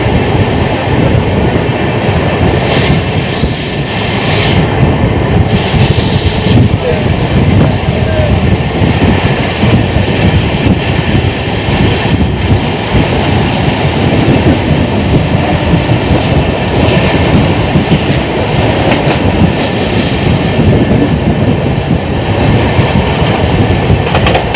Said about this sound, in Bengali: লোকাল আর শহীদ এক্সপ্রেস দুখানে একসাথে অ্যারাইভেল করছে কামারপুকুরে।